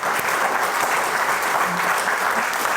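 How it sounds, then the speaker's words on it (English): At an annual meeting, an audience gives a steady, full round of applause, dense and continuous clapping from many hands at close range with no talking over it. "so let's give him a round of applause."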